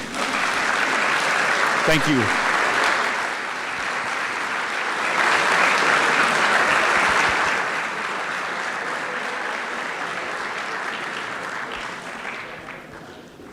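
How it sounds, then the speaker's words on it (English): Audience at an FTC robotics invitational breaks into sustained clapping for volunteers, a dense roar of applause that swells, then slowly thins, with a brief spoken thanks near the start. "Volunteers, if you're in the room, stand and wave for an applause because you really deserve it."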